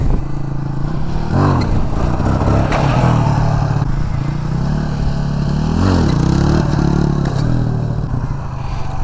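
Motorcycle engine revving hard during wheelie stunt training in Salem, with sustained loud throttle blips that rise and fall over a steady running idle, close to the microphone and without talk.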